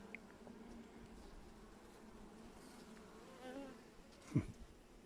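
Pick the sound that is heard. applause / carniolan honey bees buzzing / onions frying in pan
carniolan honey bees buzzing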